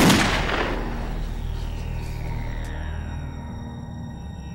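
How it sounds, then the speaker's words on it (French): A single gunshot fired from a revolver on a walkway: one loud, sharp report at the start, decaying into a long rolling echo and reverberant tail, with no voices. "Et il y a eu un coup de feu."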